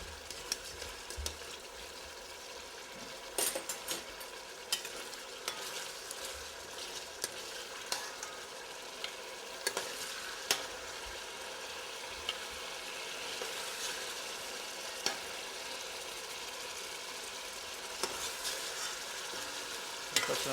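Pork and partly cooked potatoes frying in a pan for Portuguese carne de porco à alentejana, with a soft continuous sizzle broken by scattered clicks and scrapes of stirring, and no voices.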